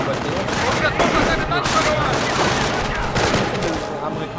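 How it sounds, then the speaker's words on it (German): Dense, continuous gunfire and explosions from the World War II strategy game Company of Heroes on a 3 vs 3 match on the Redball Express map, a loud sustained barrage with overlapping bursts and faint voices talking underneath. "Werde beschossen."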